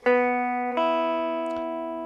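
Two plucked guitar notes ring out in succession, the second struck about a second later, both sustaining and slowly fading, close and alone.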